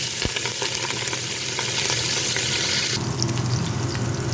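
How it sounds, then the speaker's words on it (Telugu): Curry leaves, onions and green chillies sizzle loudly in hot oil, a dense, steady frying hiss that fills the whole stretch close up, with no voices over it. "ఇప్పుడు వేరే దాంట్లో నూనె వేసుకున్నాను. కరివేపాకు, ఉల్లిపాయలు, పచ్చిమిరకాయలు వేస్తున్నాను."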